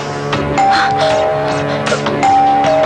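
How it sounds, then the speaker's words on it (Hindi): Doorbell ringing indoors in a Hindi film scene, a repeated bright electronic chime sounding several times over a low background hum. "मैं कब से घंटी बजा रहा हूं"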